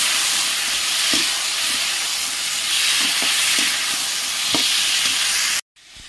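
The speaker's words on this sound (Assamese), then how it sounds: "কাটি থোৱা আলুখিনি অকণমান দি দিম বিলাহীৰ লগত। বিলাহী মাছৰ তৰকাৰী হ'ব," Cut potatoes and tomatoes sizzling and frying in a pan for a fish curry, a steady loud hiss with occasional stirring clinks, ending abruptly in silence.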